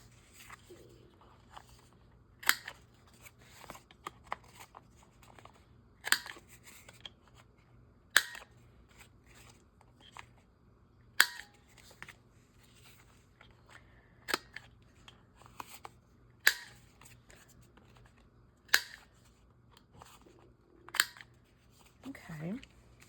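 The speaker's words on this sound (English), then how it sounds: "let's round some corners and make some just general journal cards out of" Sharp, isolated clicks of a corner rounder punch trimming the corners of paper journal cards, spaced every couple of seconds over a quiet room.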